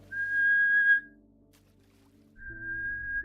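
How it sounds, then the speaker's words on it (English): A person whistles two sustained clear tones, one of about a second, then a pause, then another, alone over faint background hum. "I whistle a lot"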